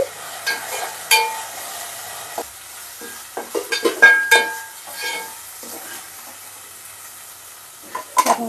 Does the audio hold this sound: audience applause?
no